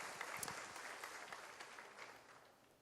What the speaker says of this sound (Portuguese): Vamos aplaudir o Senhor pela vida dos irmãos aí, em nome de Jesus?